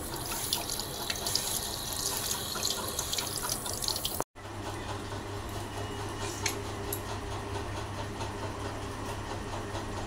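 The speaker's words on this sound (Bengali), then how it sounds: "চলো আগে তরমুজটা আমি ধুয়ে নিই।" Tap water runs steadily into a sink while a watermelon is washed under it, a continuous close splashing hiss with a brief break midway before the flow resumes.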